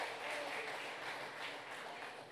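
A church congregation applauds during an evening Sunday service, heard as a faint, distant, continuous patter of many hands clapping for a couple of seconds.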